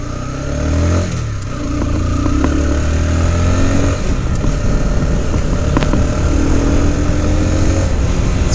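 A motorcycle ridden by a beginner, its engine droning steadily and close as it brakes and shifts down through the gears, pitch sliding as the revs change.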